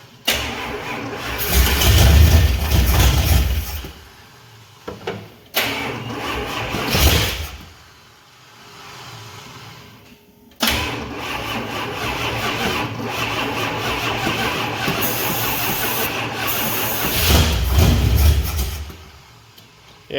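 A truck engine with no fuel cranks repeatedly without catching: loud, close bursts of starter grinding broken by short pauses.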